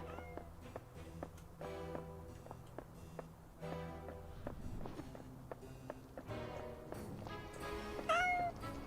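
A cat meows inside a video game, with a short rising cry near the end over a steady stream of game sounds and rhythmic clicking footsteps. The cry is fairly close and clear against the busy background.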